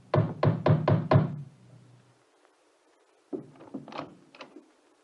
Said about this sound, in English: At midnight, there was a knock on his door.